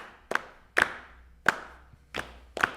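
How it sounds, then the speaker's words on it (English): Five sharp, close hand claps in an uneven rhythm, with short and longer gaps between them, each clap crisp and ringing briefly in a quiet room. "we're just going to clap"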